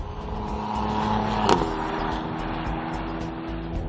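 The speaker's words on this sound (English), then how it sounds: "The car we're driving is the AMG GLE 450 Coupe." A Mercedes-AMG GLE 450 Coupe with a 3-litre turbocharged engine drives along, giving a steady engine and road hum heard from inside, with a brief sharp knock around the middle.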